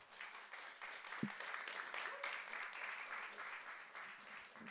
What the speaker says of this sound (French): je vous demande un tonnerre d'applaudissements pour Cyprien Austin qui vous le propose.